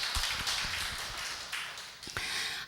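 A church congregation claps together during a Korean sermon, producing a dense, steady wash of applause with a few sharper individual claps standing out across the whole stretch.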